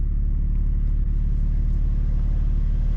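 A BMW M2 G87, tuned to about 780 wheel horsepower, rumbles steadily while driving, its low engine drone loud and constant with no voices over it.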